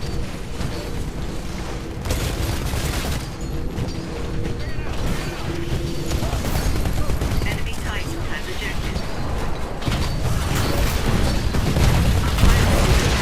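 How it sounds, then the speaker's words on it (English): Cluster missile explosions in the game Titanfall, a dense run of booming, crackling blasts and mechanical clatter that keeps building over the stretch, with a voice talking over the action. "I throw down a cluster missile and run"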